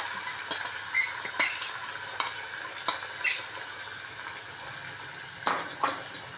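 Tomatoes hit a hot frying pan of tempering for a baby potato fry, with a steady soft sizzle under repeated clinks and scrapes of a spoon stirring against the pan.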